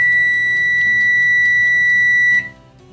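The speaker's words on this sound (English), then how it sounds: "That's the timer." Kitchen timer beeping in a home kitchen, a loud, steady high-pitched tone with rapid pulsing that cuts off abruptly near the end.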